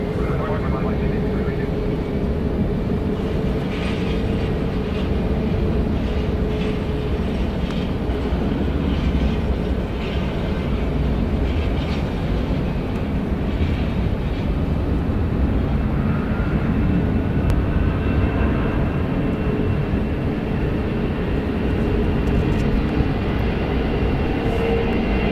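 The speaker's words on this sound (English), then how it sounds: "Departing Delta Airlines flight 2542, going to New Orleans. It's a Boeing 757-200, 21 years old." A Boeing 757-200 airliner departs Atlanta Hartsfield-Jackson airport, its engines a continuous loud, broad roar that holds steady throughout with a faint rumbling texture and no pauses.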